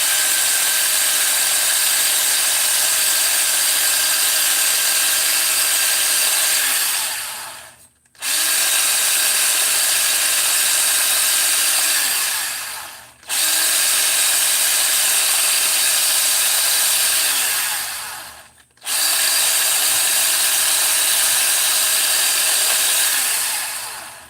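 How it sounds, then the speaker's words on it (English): A high-pitched power tool fitted with a Scotch-Brite pad scours a chainsaw cylinder down to bare metal. It runs in four loud, steady bursts of several seconds each, with brief dips as the tool spins down between passes. "Just want to hit this with the Scotch-Brite."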